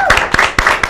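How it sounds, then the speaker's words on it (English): Brief burst of hand clapping from a small group at a softball roundtable, several sharp uneven claps in quick succession, close and fairly loud. "Let's give a round of applause to Shay Thal."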